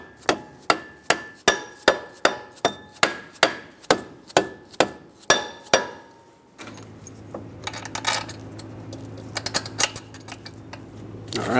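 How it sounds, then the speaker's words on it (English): A rubber mallet taps an AC compressor down into place on a 2003-2009 Dodge Ram 2500 5.7L V8, about a dozen sharp, evenly spaced knocks up close, followed by quieter clanking and handling of metal parts. "So I'm going to take a rubber mallet, tap the AC compressor down into place."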